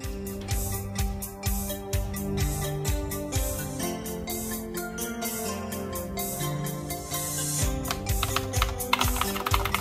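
Fingers typing on a brand new Commodore 64 keyboard with new keycaps, a continuous run of quick clicky keystrokes heard close, with musical accompaniment underneath.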